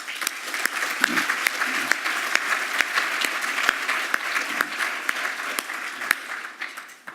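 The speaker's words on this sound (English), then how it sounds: "let's still give him a big round of applause" A conference audience gives sustained applause, steady dense clapping from a crowd that tapers off toward the end, with a few sharp individual claps standing out.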